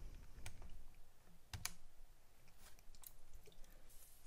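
Quick, light clicks of calculator keys being pressed to enter numbers while working a physics motion problem, a scattered run of small taps over a faint room background with no talking.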